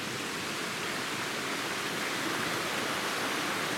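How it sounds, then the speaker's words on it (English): A creek in the Cranberry Wilderness keeps up a steady, dense rush of flowing water, constant and broad with no breaks and no voices over it. "And there's the creek still."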